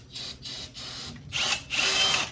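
A power drill whirs in four short bursts, close and fairly loud, the last two longer and stronger, with no talk over them.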